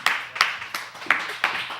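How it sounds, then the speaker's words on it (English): Hands clap at a slow, uneven pace, six distinct claps close to the microphone at a casual home performance, with a faint voice mixed in. "let's give a round of applause for Miss Stefani"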